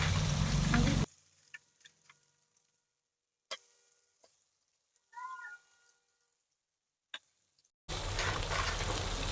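Bitter gourd added to cooked masala and frying: loud, close bursts of hissing sizzle at the start and end, with a quiet stretch between holding scattered clicks, taps and a brief chirp.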